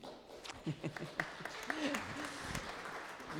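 Scattered clapping from a few people mixes with voices talking nearby, the claps uneven and fairly soft.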